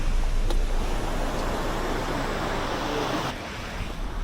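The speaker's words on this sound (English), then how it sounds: "Got a big old log jam on this creek coming in." Water rushes steadily around a big log jam on a clean Tennessee mountain creek, a broad even wash with no talk over it.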